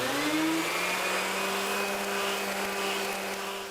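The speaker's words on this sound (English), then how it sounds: "I'm going to use the sander real quick. It's got 220 grit in it, and I'm just going to hit it." An orbital sander loaded with 220-grit paper runs on wood. It makes a steady, loud motor whine with a broad, even hiss that holds unbroken for the whole stretch and fades slightly at the end.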